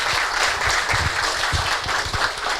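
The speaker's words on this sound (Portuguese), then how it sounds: "Uma salva de palmas para ele." An audience applauds a guest at a presentation on online licensing systems. The clapping is dense and continuous at moderate loudness and lasts the whole stretch, with no voices over it.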